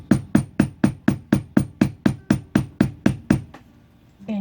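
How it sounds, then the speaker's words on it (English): A textured beveler is struck with a mallet to tool leather for a Nordic snowflake bracelet, about fourteen sharp, evenly spaced taps in quick steady rhythm, close and clear, ending with a pause and a faint final knock. "as I hammer, I kind of just walk it along"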